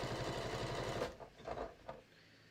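A sewing machine triple zigzag stitching pressed-open seams on a quilted batik hat, a close rapid mechanical whir that stops after about a second, followed by a few soft fabric handling sounds.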